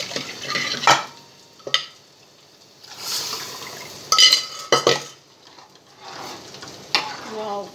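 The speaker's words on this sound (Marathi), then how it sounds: "जिरे आणि ह्याची फोडणी घेतली मोहरीची" Cumin and mustard seeds temper in hot oil for a dal, giving a soft sizzle that flares in several sharp bursts as the seeds hit the pan, with utensil clatter and stirring in between.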